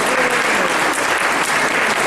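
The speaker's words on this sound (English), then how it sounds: "Let's give them please a big round of applause." An audience at a children's prize ceremony in Gaborone, Botswana, applauds the young winners, loud, sustained clapping that fills the whole moment without a pause.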